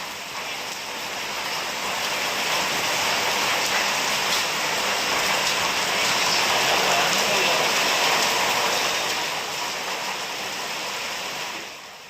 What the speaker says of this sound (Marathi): विजांच्या कडकडाटासह मुसळधार पावसानं कोल्हापूरला झोडपून काढलं